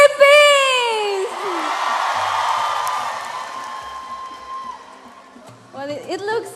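A crowd at the Miss Earth 2017 pageant final in the Philippines lets out a shrill whoop and then a sustained roar of cheering, which fades as a host's voice speaks over the hall.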